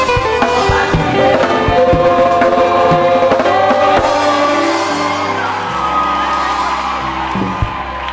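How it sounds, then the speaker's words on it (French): A church congregation shouts cries of joy together in a loud, dense wall of voices that goes on for several seconds. Music plays behind the shouting. "Pour ces cris de joie."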